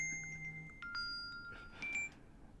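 Faint electronic tones chirp in a short series of beeps, like a phone ringing quietly in the background.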